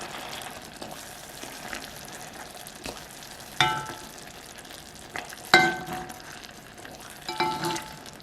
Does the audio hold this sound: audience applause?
no